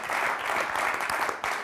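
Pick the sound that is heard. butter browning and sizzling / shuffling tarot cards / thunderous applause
thunderous applause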